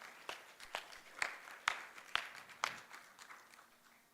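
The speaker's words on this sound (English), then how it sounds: "A big round of applause for this wonderful panel." Audience at a climate change symposium in Kuala Lumpur clapping for a panel, a thin, sparse scatter of individual claps, a handful of distinct sharp hits that fade out gradually, no talking.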